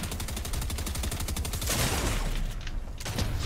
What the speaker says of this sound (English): You kill him with SMG.